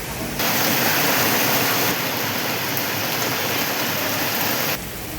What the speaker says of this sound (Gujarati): શહેર અને જિલ્લામાં અનેક સ્થળો ઉપર ધીમી ધારનો વરસાદ વરસ્યો હતો